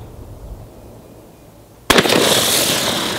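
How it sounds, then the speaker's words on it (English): A Remington 870 Youth 20 gauge shotgun fires a single buckshot round: one sharp, loud blast that ends the quiet, followed by a brief ringing tail. "here goes buckshot."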